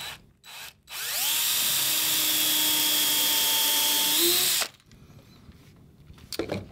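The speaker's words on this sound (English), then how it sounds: "I'm just going to pre-drill some holes first" A power drill pre-drilling holes in wooden lapstrake planking on a dory whirs steadily for several seconds, its pitch holding then rising slightly before it stops, followed by faint clicks and handling noise.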